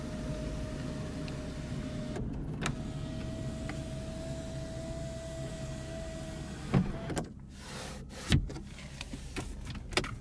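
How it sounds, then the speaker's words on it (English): A sunroof motor on a 2018 Lexus IS350 F Sport with a 3.5 L V6 hums steadily for several seconds inside the cabin, followed by a few soft clicks and thumps. "you also do have your sunroof with your sunroof controls"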